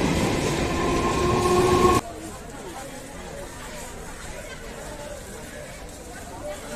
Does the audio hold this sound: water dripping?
no